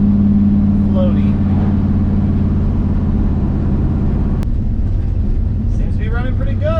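A 6.0 CUCV truck engine drones steadily while driving, a low continuous rumble close and loud throughout, with voices talking over it.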